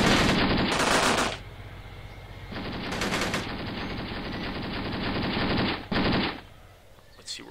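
Bursts of automatic and rifle fire from a Graviteam Tactics battle crackle loudly and continuously, with rapid machine-gun rattles rising and falling over a constant wash of gunfire.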